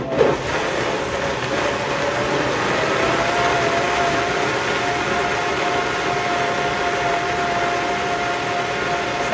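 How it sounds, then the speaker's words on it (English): A steady, loud blender motor whir with a faint whining tone runs continuously, churning sea moss gel with spirulina without pause. "let's blend this back up, turn it down."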